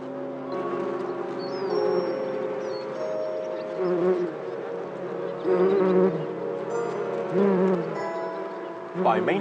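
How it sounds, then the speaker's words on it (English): Bees buzzing inside an olive tree, a steady close droning hum with several louder swells as individual insects pass near, alone without talk. "The next generation of bees matures at great speed within the olive tree"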